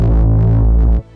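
Berserk bass preset from the Analog Lab synth bank, a deep sustained analog-style bass tone with saturation, loud and continuous for about a second, then cutting off abruptly.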